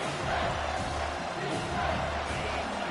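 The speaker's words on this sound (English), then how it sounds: "The crowd getting behind this defense as they try to get a stop in the red zone." Stadium crowd in an American football video game, a continuous loud roar of cheering and shouting that swells slightly across the moment, with no clear speech over it.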